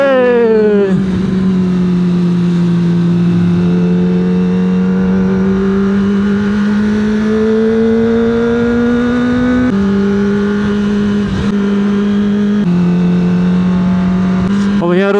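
Kawasaki Ninja ZX-25R motorcycle engine revving during a ride: a loud, sustained, high-pitched engine note that climbs steadily, with brief dips as it shifts near the end, continuous and close throughout.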